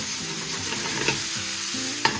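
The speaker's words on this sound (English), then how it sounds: "So while the beef is browning," Beef browns in a pan, a continuous close sizzle and frying hiss while it is stirred, with two brief sharper scrapes, no voices.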